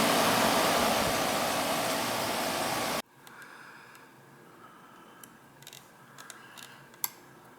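An air conditioner running after a hard start kit was installed: a loud, broad rushing roar for the first few seconds cuts off abruptly, leaving a quieter hum with faint ticks and a sharp click near the end.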